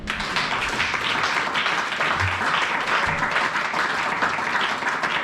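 A church congregation applauds during a French-language sermon, dense sustained clapping filling the whole stretch at an even level, with scattered taps and no clear talk.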